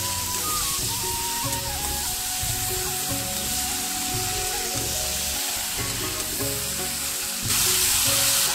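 Spices, a dried red chilli, a bay leaf and red Malabar spinach sizzle and fry steadily in hot oil, a dense close crackle with occasional stirring, growing louder near the end.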